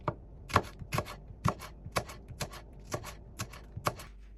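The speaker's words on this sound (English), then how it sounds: "Finely slice a quarter of onion." Knife finely slicing a quarter onion on a board, a quick run of about a dozen crisp, evenly spaced cuts, close and clear with no voices.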